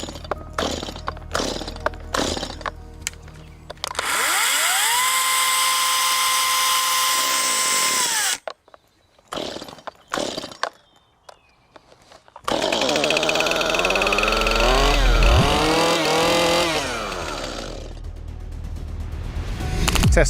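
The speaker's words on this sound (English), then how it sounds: "How long will it take for each chainsaw to get into optimum cutting speed?" Pull-starts rattle before petrol chainsaw engines catch and roar, one after another, loud and close, with short gaps between the starts.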